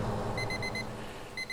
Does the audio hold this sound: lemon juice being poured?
no